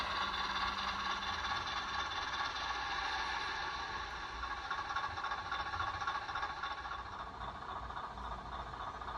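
A model train shoves back into a switchback area on a New Haven Railroad layout, producing a steady, moderately faint mechanical whir and rail rumble that holds evenly throughout.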